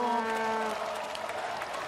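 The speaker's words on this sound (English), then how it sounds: "You can hear them cheering for him." French crowd applauding and cheering at a BMX flatland freestyle World Cup final, a dense continuous clapping roar slightly distant, with a horn-like tone fading early.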